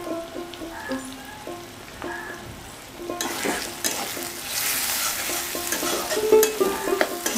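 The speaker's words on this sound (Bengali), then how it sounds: "মশলাটা কষিয়ে নেব" Kashmiri chilli powder and cumin masala being stirred and fried in a pan, a steady sizzle with scraping stirring strokes that grows louder and busier partway through, close up with no talking.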